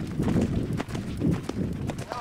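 Horse hooves clip-clop on a Wild West riding trail in a steady, close, fairly loud rhythm, with faint voices mixed in.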